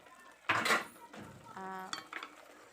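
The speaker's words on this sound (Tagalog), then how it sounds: "Pabalik-balik na lang po yung kaserola, yung kawali." A metal casserole pot and frying pan clatter in a home kitchen during stir-frying of bean sprouts with pork and oyster sauce, a sharp close clang followed by lighter scraping and ringing knocks.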